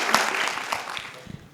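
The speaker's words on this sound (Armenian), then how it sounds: "էլի են ծափ տալի" Audience applause at a live comedy talk show, a short burst of clapping that fades over about a second and a half.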